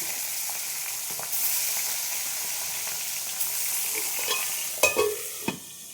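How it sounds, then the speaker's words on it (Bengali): Small tengra fish hitting hot oil in a pan, a steady close sizzle that swells as pieces go in, with a few sharp clinks and utensil knocks near the end. "আমি এবার মাছগুলো এক একে ছেড়ে দেবো।"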